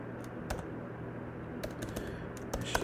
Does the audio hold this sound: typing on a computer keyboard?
yes